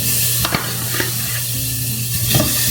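Food sizzling steadily in a hot pan while being sautéed, with a few scrapes and taps of stirring, close and continuous, no talking.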